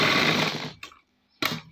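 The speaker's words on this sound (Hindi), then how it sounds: "अब दोस्तों हम सिलाई मारेंगे" Sewing machine stitching elastic onto the hem of army pants, a short whirring burst that winds down, then a brief stop and a restart.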